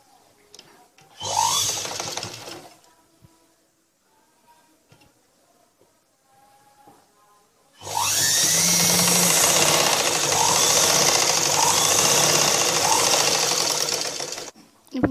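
A sewing machine stitches a blouse in two runs: a short burst of rapid mechanical chatter, a quiet pause, then a long steady loud stretch of stitching that stops abruptly.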